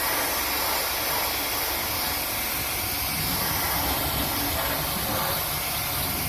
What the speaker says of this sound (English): So get my airbrush out.